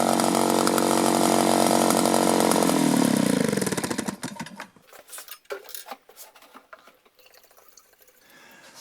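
A two-cycle engine leaf blower runs loud and close at a steady high rev, then cuts off abruptly, leaving sputtering, ticking and faint clatter as it winds down.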